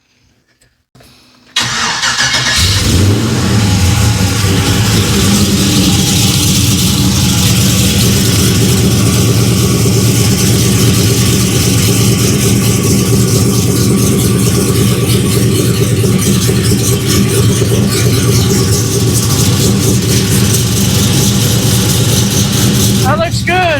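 A car engine cranks and fires up after a Motion Raceworks dual-channel inline flex fuel sensor install, then settles into a steady, loud idle that runs for over twenty seconds, with faint talk underneath.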